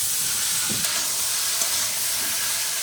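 Cumin, green chili and onion frying with beetroot and potato in a pan, giving a steady, even hiss of sizzling oil that runs unbroken throughout with no talk.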